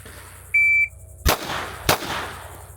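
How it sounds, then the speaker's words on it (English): A shooting range timer gives one clean, sustained electronic beep, followed by two sharp, loud gunshots about half a second apart against a quiet outdoor background. "The beep is just to let you know when to go."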